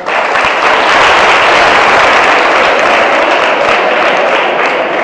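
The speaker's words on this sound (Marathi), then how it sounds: "सगळ्यांनी टाळ्या वाजवा." Loud, sustained applause from an audience at a school Science Day quiz, steady dense clapping filling the whole stretch without a break.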